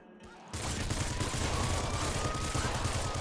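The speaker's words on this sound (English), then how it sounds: "I'm hoping this lightning weapon is doing a lot of damage." Lightning weapon firing in Nuclear Throne Ultra Mod, a dense continuous crackling barrage that bursts in suddenly and holds steady and loud throughout, no talking.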